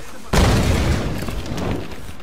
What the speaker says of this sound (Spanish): Juego con la dinamita, juego con la dinamita